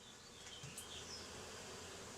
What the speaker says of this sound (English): There's some of my bees right now. These are European honeybees, actually an Italian variety.